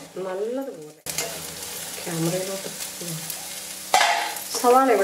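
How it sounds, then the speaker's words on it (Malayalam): Onions sautéing in a pan until light brown, a steady sizzle with stirring scrapes beneath a voice talking over much of it, close and moderately loud. "സവാള നല്ലതുപോലെ ഒന്ന് ലൈറ്റ് ബ്രൗൺ കളറാക്കി വഴറ്റിയെടുക്കണം"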